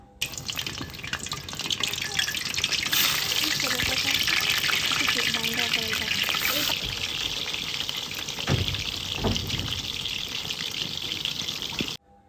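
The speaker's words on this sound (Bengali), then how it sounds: "এখন এটা আমি তেলে ভাজবো" Peeled potatoes coated in colouring sizzle in hot oil while being prepared for kacchi biryani, a steady close frying hiss with occasional stirring scrapes, which fades out at the end.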